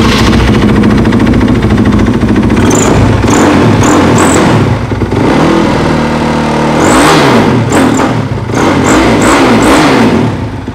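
A loud Honda Moriwaki MD250 Moto3 racing motorcycle engine fires up and revs repeatedly, rising and falling in pitch, with a steady rumbling idle between bursts.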